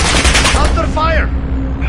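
Rapid automatic gunfire in Call of Duty Warzone on the Caldera map, loud and continuous throughout, with a short game voice callout layered over it.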